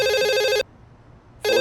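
A telephone rings in two loud, close electronic trills separated by a brief silence, with no other sound around them.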